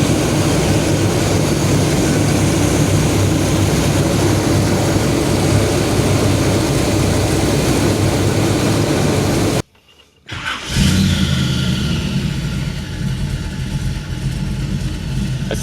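A 1979 GMC C35 truck engine idles rich with a loud, steady rumble that cuts out abruptly for a moment, then restarts and settles back into a running idle.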